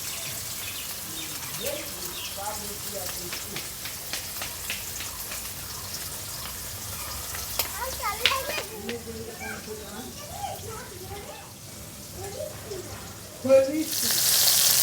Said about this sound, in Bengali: যতটা সম্ভব একটু নিচেটা ভাজা হওয়া পর্যন্ত অপেক্ষা করবে